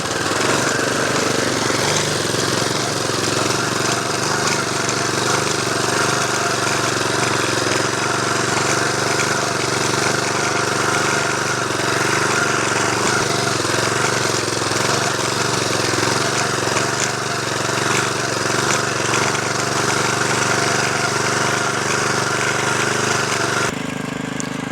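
A farm soil-tilling machine runs steadily at normal throttle, its engine giving a continuous loud mechanical drone with a rattling, jackhammer-like texture throughout, briefly changing near the end.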